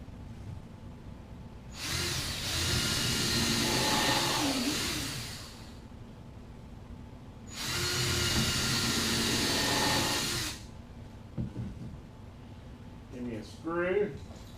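Power screwdriver driving screws into a garage shelf under construction, two sustained whirring bursts of a few seconds each, close and fairly loud, with quiet pauses and a brief voice near the end.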